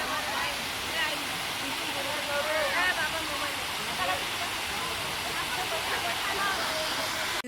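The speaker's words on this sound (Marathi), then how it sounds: "जपानीज गार्डन मध्ये किती सुंदर असं छोटा धबधबा केलेला आहे" A small artificial waterfall in a Japanese garden at Ramoji Film City gives a steady, full rush of splashing water that runs unbroken throughout, with faint voices now and then beneath it.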